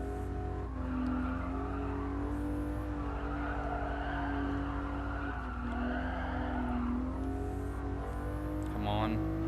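A front-engine, rear-drive race car revs hard in Gran Turismo Sport, its engine a sustained, rising whine that holds steady for several seconds, close and prominent, with faint tire noise and brief talk over it.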